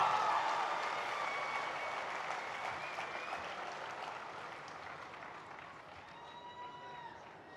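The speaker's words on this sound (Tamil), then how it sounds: "நல்ல ஒரு கைத்தட்டல் தந்து ஃபாதரை கூப்பிடலாமா?" An audience claps steadily to welcome a priest, the Father, onto the stage at a Christmas celebration; the dense applause starts loud and gradually tapers off, with faint crowd murmurs and whistles running through it.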